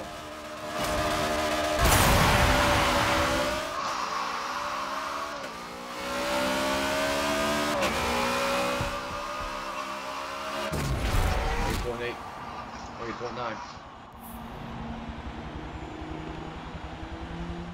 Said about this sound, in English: So, car's running pretty hard.